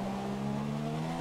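Formula 1 car engine in the racing game F1 2017 after an overly fast downshift, a steady high droning whine held at near-constant pitch, loud and close.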